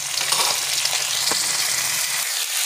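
Onion with ginger, green chili and garlic fries in hot oil, giving a close, continuous hissing sizzle that runs steadily throughout.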